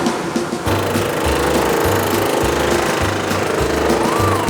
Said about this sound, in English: Sean is cutting all the jigsaws at the same time by moving them around while a precision cutter cuts through the wood